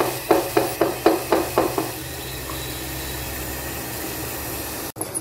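Tomatoes fry in hot oil with a steady close sizzle, opened by a quick series of about seven rhythmic scraping stirs before the hiss settles alone.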